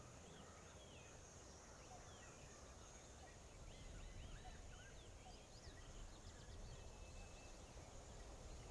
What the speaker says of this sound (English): Little bird noises